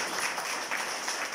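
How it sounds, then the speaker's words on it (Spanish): Applause from a seated audience at a community meeting, a steady wash of clapping hands for 1.4 seconds at moderate, even loudness with no talk over it. "Un fuerte aplauso para..."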